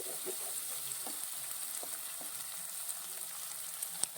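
Green chilies cut lengthwise fry in a pan for a curry, giving a steady, low-level sizzle and crackle throughout, with no voices.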